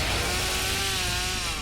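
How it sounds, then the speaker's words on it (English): A chainsaw drones steadily and loudly in the Texas Chain Saw Massacre video game, a continuous buzzing rev that holds throughout. "Yeah, chainsaw it up."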